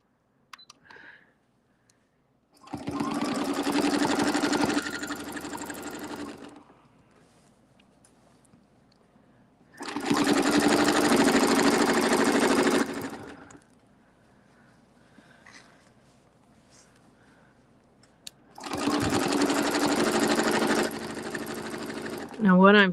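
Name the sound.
sewing machine stitching circles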